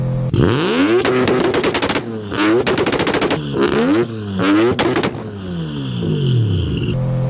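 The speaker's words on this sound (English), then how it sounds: "this car is so loud with a 4-inch exhaust all the way through, and when it two-steps, just blows your eardrums out" A very loud car with a 4-inch exhaust run all the way through fires off two-step launch-control bursts, with rapid machine-gun-like popping and crackling in several blasts between brief revs, close and harsh.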